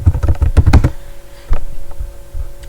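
Keys clatter on a computer keyboard in a rapid, loud burst of close typing, then slow to a few scattered taps.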